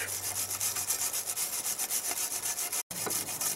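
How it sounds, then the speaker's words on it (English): A stainless steel wire brush polishes brazed 6082 aluminum military antenna poles, making a continuous loud, harsh scrubbing rasp in quick back-and-forth strokes, close up and uninterrupted except for a split-second break. "Polish this up a little bit more. This is stainless brush."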